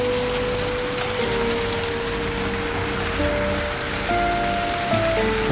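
Rain falls steadily on a rooftop, making a constant, close, dense hiss with a faint low hum underneath throughout.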